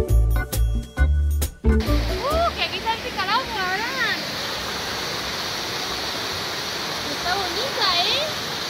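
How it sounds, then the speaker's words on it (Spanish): Small mountain waterfall fed by snowmelt from the Iztaccíhuatl volcano near Paso de Cortés, Mexico, a steady rushing hiss of falling water after some opening thumps, with faint whistling birdsong above it. "La caída de agua de la cascada que tienes enfrente varía con las estaciones del año y proviene del deshielo del volcán Iztaccíhuatl"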